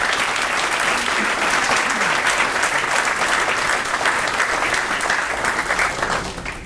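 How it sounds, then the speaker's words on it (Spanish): A crowd at a book presentation applauds, with dense, steady clapping that continues strongly throughout and tapers slightly at the end. "para quienes pido un fuerte aplauso."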